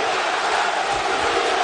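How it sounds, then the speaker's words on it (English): A boxing arena crowd at the Deontay Wilder vs Artur Szpilka fight roars in a loud, steady, unbroken wash of cheering that fills the space. "listen to this crowd"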